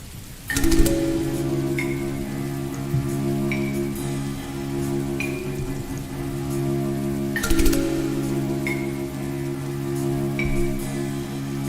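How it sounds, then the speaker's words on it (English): Steady rain hisses beneath sustained music tones in a remake of the Sly 1 game soundtrack, a constant even wash with a couple of brief louder swells. "So we have rain in the background."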